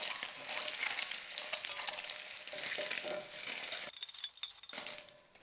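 Eggs frying in a pan with a little turmeric, a steady close sizzle with stirring and a few light clinks of a utensil against the pan, briefly dipping quieter before the crackle resumes.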